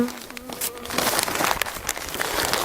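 Honeybees buzzing at a hive during an inspection, a dense, loud drone close by, with rustling and handling noise mixed in.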